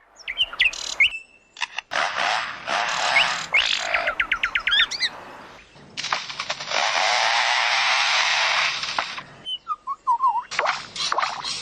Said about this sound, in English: They call it bird song, but it's hardly a song. There's no real tune to speak of, just a random cacophony of squawks and chirrups